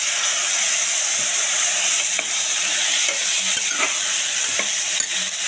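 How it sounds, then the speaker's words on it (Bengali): Vegetables, green chilies and broken wheat (dalia) fry in a little oil, giving a steady close sizzle with scattered stirring scrapes and clicks throughout, no voices. "দেখুন সব সবজিগুলো ডালিয়াটা একটু ভেজে নেব।"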